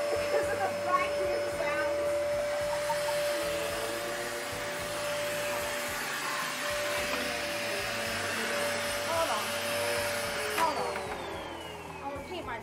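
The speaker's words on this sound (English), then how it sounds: "That vacuum's gonna fall apart." A vacuum cleaner runs continuously in an office, a loud steady motor whine with a high tonal hum that shifts pitch near the end, while a person talks over it.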